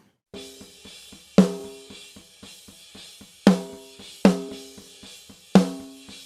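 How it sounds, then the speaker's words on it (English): A close, dry snare drum struck in a steady pattern, with several loud accented hits among softer ghost strokes and a short ringing decay after each. "right now we're listening to our raw, live recorded snare drum"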